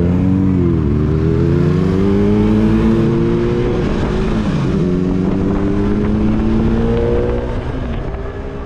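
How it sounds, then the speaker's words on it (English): A Yamaha YZF-R3 with its 320cc engine, heard close up while riding: a loud, continuous drone that rises through the revs, drops briefly at a gear change, then climbs again. "It's still a zippy engine with as much power as you'd probably need for a learner"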